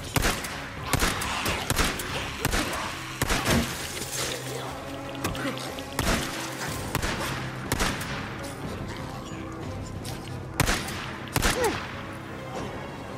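Gunfire in the video game Days Gone: repeated loud, sharp shots and short bursts crack out at irregular intervals over a busy background of ambient game noise, with no talking.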